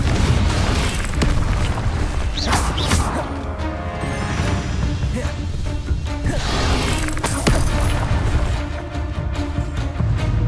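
Blasting-spell explosions from the Confringo spell in Hogwarts Legacy combat land as repeated booms and crashes, with whooshes and impacts piling up densely over a loud, continuous battle din.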